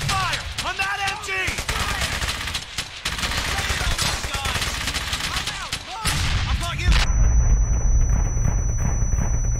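Sustained machine gun fire and overlapping gunshots rattle through a firefight in Brothers in Arms: Hell's Highway, loud and continuous, with voices shouting amid the battle and a steady rumble taking over at the end.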